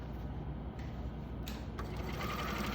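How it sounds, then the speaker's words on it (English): A sewing machine runs steadily while stitching a fabric cuff at a one-centimetre seam allowance, a close, continuous mechanical whir with a slight change in pace partway through, and no talking. "when you start stitching, you're gonna stitch at 1 centimeter stitch margin all the way through"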